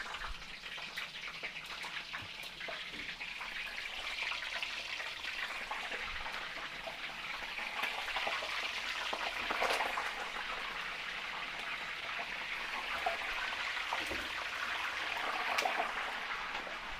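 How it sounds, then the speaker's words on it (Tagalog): Steady broadband sizzle of embutido, a Filipino meatloaf, frying in hot oil in a small pan, continuous and fairly close, with faint crackles and no talking. "Prito po tayo dito ng embutido."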